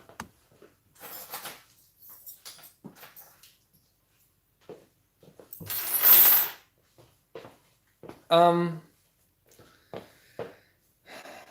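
Loose metal Allen keys rattling and clinking in a bin as they are handled: scattered short metallic jingles with two louder clattering bursts partway through, separated by quiet gaps and no talking.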